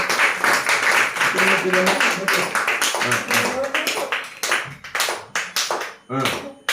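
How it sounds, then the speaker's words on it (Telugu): A group claps at a Telugu birthday celebration for Vimala, with steady, lively applause running throughout while voices sing and talk over it. "క్లాప్స్ కొట్టండి"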